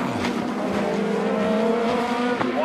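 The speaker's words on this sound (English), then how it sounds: "Catastrophic brake failure leads to this catastrophic barrel rolling crash" Race car barrel-rolling crash after brake failure during a motorsport event: a steady, loud engine and tire drone with whining tones, heard alone without talk, brief and continuous.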